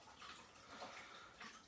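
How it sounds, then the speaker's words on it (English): Faucet water runs into a sink while a pH electrode is rinsed under it, a faint, steady splashing hiss with slight fluctuations and no speech. "I'm just going to rinse this over the sink"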